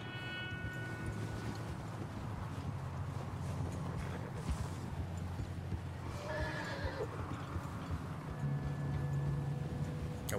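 A horse in Red Dead Redemption 2 whinnies and neighs while hooves clip-clop nearby, set against a continuous outdoor game ambience at moderate volume.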